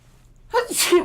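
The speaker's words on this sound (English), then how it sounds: "So much fun sneezing with an extra snout." A single sharp sneeze bursts out after a brief quiet moment, close and fairly loud, with a breathy intake leading into the explosive release.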